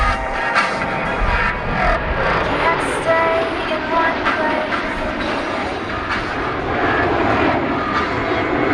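Navy Blue Angels F-18 jets pass in echelon formation at about 378 mph during an air show at NAF El Centro, a loud, sustained roaring rush with crowd ambience beneath.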